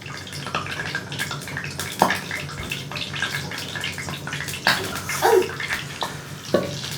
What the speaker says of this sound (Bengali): এখন এই যে ডিমে চুবিয়ে তারপরে আমি তেলের মধ্যে ছেড়ে দেব।